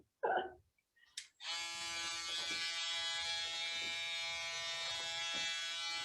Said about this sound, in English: how to use this foil shaver for the first time